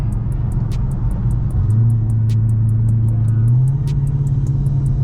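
A 1000hp Hellephant engine running on race fuel holds a deep, loud rumble in fourth gear at about 1500 RPM, with its pitch rising steadily under the pull and a faint repetitive ticking above.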